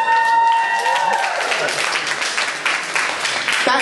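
Audience at a live comedy show applauds with a dense burst of clapping that holds steady, then thins slightly toward the end.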